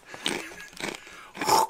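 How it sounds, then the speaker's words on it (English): A person chewing with wet, crunchy bites in three short bursts, close and fairly loud, broken by brief pauses. "Bro, stop chewing on those things like a buffoon."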